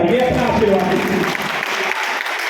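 A crowd at a Hindi poetry recital about the Rani of Jhansi claps loudly and steadily for a few seconds, with some voices mixed in.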